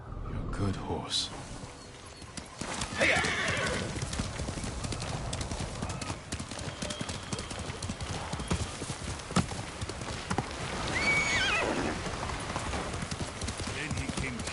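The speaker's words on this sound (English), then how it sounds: "You're a good horse." A horse galloping in the video game Ghost of Tsushima, with steady rhythmic hoofbeats over outdoor game ambience, a voice talking briefly and a brief whinny-like call.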